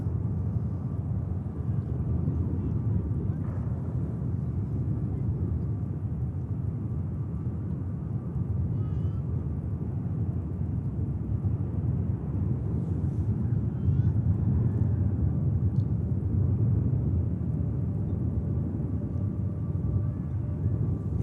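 Aircraft departing Manchester Airport, a loud, steady, broad jet roar that rumbles on without a break for the whole stretch, slightly swelling toward the end.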